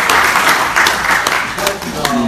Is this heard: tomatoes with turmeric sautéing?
no